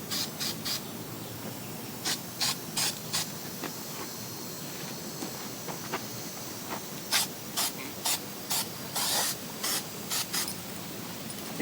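Short spray bursts of bed liner undercoating hiss in a loose rhythm, some brief and some longer, close by and fairly quiet against a faint background, applied to car bodywork after priming and seam sealing.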